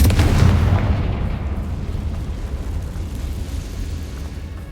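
The Confringo blasting spell explodes in Hogwarts Legacy with a heavy booming burst at the start, then a long rumbling decay that fades over several seconds, with no speech.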